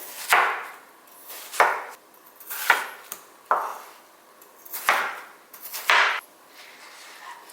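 A watermelon cut into pieces with a knife, giving about seven separate, close chops, each a sharp crunch with a brief juicy crack, spaced roughly one second apart with quiet gaps between.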